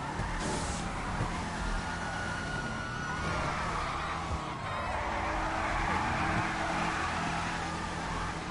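Police cars in GTA 5 on PS4, heard at a street car meet: sirens rise and fall through the scene over continuous engine and tyre noise, with faint voices at times.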